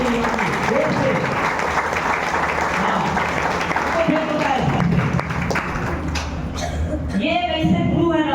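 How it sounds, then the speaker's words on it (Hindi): An audience breaks into loud, sustained applause at a meeting, with dense clapping continuing throughout and a few voices calling out over it. "एक जोरदार ताली दोनों आदमी के लिए जोर से।"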